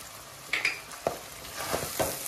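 Tripe pieces frying in hot oil with green chillies, salt and turmeric for a gongura boti curry, giving a few sharp pops and splutters over a low steady sizzle.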